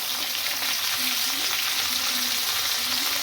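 Beans, potatoes, carrots and spinach frying in oil in a pan make a steady, close sizzle with a soft stirring texture throughout, and no one speaks.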